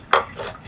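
A knife chops red onion on a board: one sharp close thunk, then a softer second cut a moment later.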